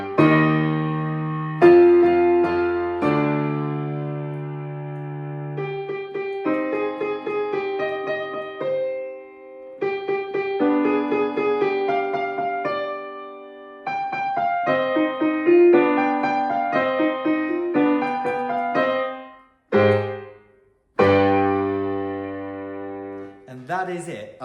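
Beethoven's Fifth Symphony arrangement with four parts played together on an electronic instrument, a continuous run of sharply attacked notes and sustained chords with decaying tails, a brief pause near the twenty-second mark, and no voice over the music.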